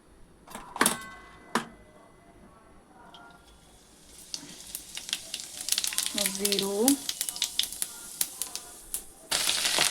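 Chillies, besan and cumin crackle in hot oil for stuffed chilli, with quick popping clicks and utensil taps that grow denser partway through, close up and moderately loud.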